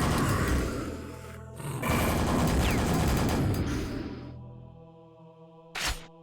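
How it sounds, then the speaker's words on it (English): Rapid nail gun fire in Quake: Scourge of Armagon, in the Catacombs level, streams out as a dense, loud mechanical rattle for about four seconds, then fades, and a short sharp burst follows near the end. "we can use the nail gun on them, or the super nail gun"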